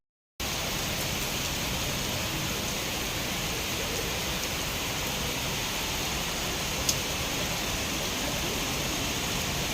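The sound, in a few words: heavy rain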